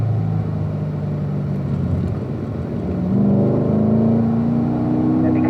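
Corvette C7 Z51 on a race track at a driving school, a steady engine rumble from inside the car that rises in pitch as it accelerates out of a corner.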